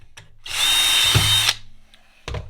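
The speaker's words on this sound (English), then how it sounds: "so what I'm going to do is just take my drill" An electric drill fitted with a 1/8-inch bit bores through plastic in a single loud, steady whine of about one second, with brief handling knocks before and after.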